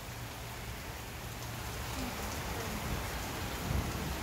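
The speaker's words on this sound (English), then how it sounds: "I think it's just rain." Rain falls steadily outside as a storm builds, a dense continuous hiss of drops on surfaces with a faint low rumble swelling near the end, no one speaking.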